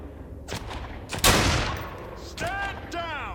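Gunfire from the online game Fallen Earth: a sharp close shot followed by a short burst of reports, with a few ringing electronic tones afterward and faint background game noise.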